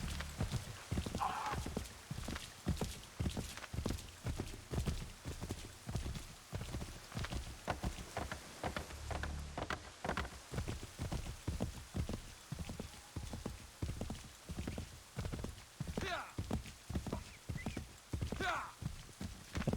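Horse hooves clip-clopping in Assassin's Creed III, a steady galloping rhythm of hoofbeats through the whole stretch, close and fairly loud, with soft rain-like ambience and a few faint vocal sounds.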